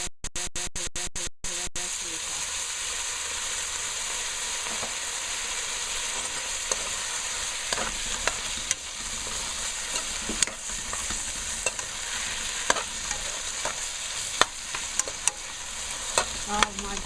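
Beef stew simmers in a pan after beef stock is poured in, a continuous loud sizzle and hiss with scattered stirring clicks and scrapes, and a voice talks briefly at the start.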